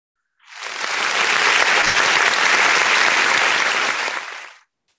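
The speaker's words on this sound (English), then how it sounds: "Please give him another round of applause." A school audience applauds after a musical performance: a dense, loud burst of clapping swells in quickly, holds steady for about four seconds, then fades out.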